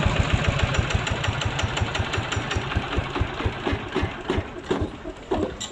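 A 14-horsepower Kubota 140 Plus engine idles with a rapid, regular thumping beat, close by; the rhythm gets slightly uneven toward the end.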